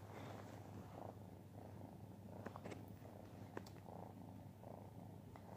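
A domestic cat purrs steadily and close up, a low continuous rumble in quiet indoor surroundings, with a few faint clicks and rustles over it and no talking.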